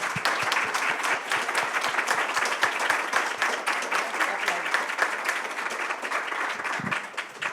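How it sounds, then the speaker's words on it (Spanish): Applause from an audience at an exhibition honoring Eduardo, steady dense clapping filling the whole stretch at moderate distance with no pauses. "Un aplauso para Eduardo."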